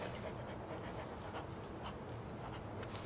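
A dog in the Hello Neighbor 2 video game pants steadily in quick, soft breaths over a constant hiss of background noise.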